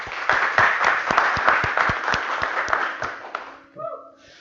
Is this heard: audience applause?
yes